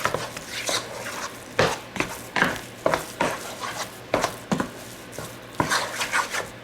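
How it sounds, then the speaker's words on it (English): Milk and cinnamon being mixed together in a bowl, a series of repeated, fairly close utensil strokes and scrapes in an irregular rhythm, with no voices. "Now I'm going to add in a little bit of milk. A sprinkle of cinnamon. And mix this together."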